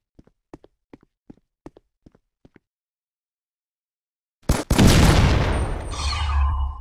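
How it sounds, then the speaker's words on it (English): Gunfire in the mobile shooter Fort Squad Royale Battle: a few soft, evenly spaced taps, a pause of silence, then a sudden loud blast that rolls into a sustained roar of shots. "I'm under heavy fire!"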